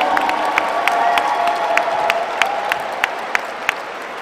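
Applause and cheering from an awards ceremony audience for lifetime achievement nominees, steady crowd clapping with whoops and raised voices, and a few crisp individual claps ringing out above the wash.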